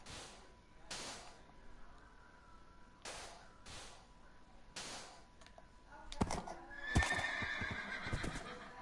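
Minecraft horse noises in-game, with several short broadband neighing or snorting bursts spaced a second or two apart, then a denser clatter of hooves and game effects toward the end, fairly quiet and alone.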